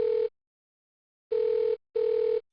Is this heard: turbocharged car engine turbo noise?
no